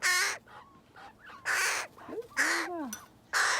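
Loud raspy caws from young crows, several harsh begging calls in bursts, close by, with a few softer squeaky chirps between them.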